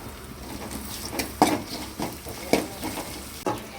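Ginger garlic paste sizzles and fries in a pan of curry leaves for a meal maker gravy, with a steady hiss broken by a few sharp scraping stirs of the spoon against the pan.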